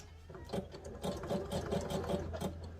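A sewing machine stitches an elastic waistband with pins in place, a steady close whirr with an even rapid pulsing of the needle, running continuously at low volume with no talk.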